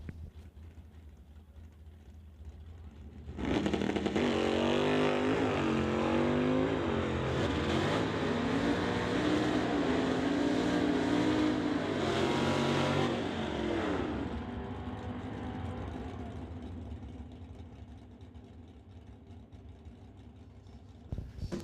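Drag racing cars roar down the strip at a raceway, a loud sustained engine blast rising suddenly and holding for about ten seconds before fading into distant engine noise.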